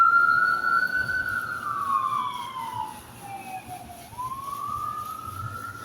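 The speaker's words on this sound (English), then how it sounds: "Here are the sirens." A wailing ambulance siren sweeps up and down in pitch, fairly loud and steady, with a low rumble of traffic beneath it.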